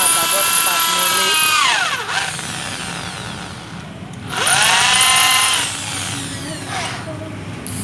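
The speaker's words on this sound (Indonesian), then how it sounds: "Menggunakan mata bor 4 mili." A power drill with a 4 mm bit bores into a cast engine block, whining in two loud bursts with pitch sweeps as it spins up and down, with people talking nearby.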